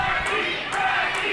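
A professional wrestling crowd cheering in an arena, a steady wash of voices with a few louder swells across a short stretch, under commentary.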